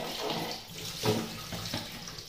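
Tap water runs over raw chicken meat being rinsed in a kitchen, a steady close splashing stream with a brief louder gush partway through.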